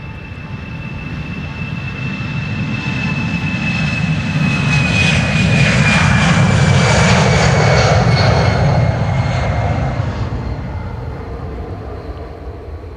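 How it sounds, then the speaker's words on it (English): An EasyJet passenger jet departs Amsterdam Schiphol Airport with a powerful, steady engine roar that swells to a peak midway and then slowly eases as the aircraft passes, with a faint high whine on top and no talking. "we are going to film the departure of EasyJet flight"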